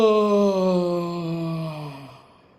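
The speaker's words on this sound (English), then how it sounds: "Loud yawning, okay?" A single long, voiced moaning yawn from a group during a Zoom workshop, drawn out and slowly falling in pitch, loud at first and fading away after about two seconds.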